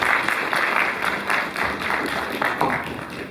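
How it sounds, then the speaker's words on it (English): A crowd applauds at a college congregation ceremony, a steady round of dense clapping that stays fairly loud and close through the moment, with faint voices underneath. "Shall we welcome him with a round of applause?"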